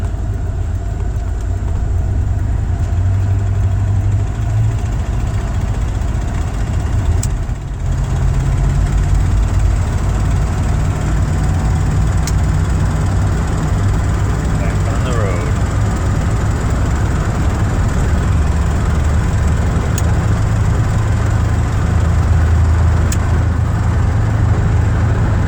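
A big block Buick 455 hot rod wagon pulls up a hill with a steady, deep engine drone, heard from inside the car and loud throughout with no break in the load.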